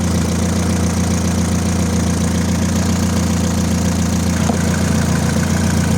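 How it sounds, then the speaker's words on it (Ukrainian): A Geely Emgrand 7 engine with 106,000 km on it idles steadily and evenly, a constant low rumble with no speech, close to the microphone. "Працює чотенько мотор."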